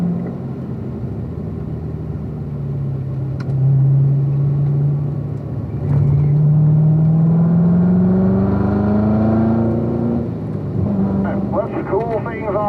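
A car on a driving course accelerates with a rising engine note, then slows under braking, fairly close and loud, while an instructor talks over it.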